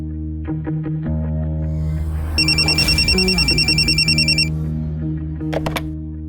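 A telephone rings with a trilling electronic bell in one sustained burst, over a low droning musical background.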